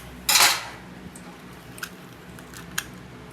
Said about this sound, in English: You just make a cut like this with the knife.